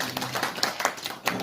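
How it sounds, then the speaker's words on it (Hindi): An audience claps at a local council executive announcement event in Kalka, with quick, dense clapping at close range throughout. "सभी ताली बजा कर कोई थोड़ा सा।"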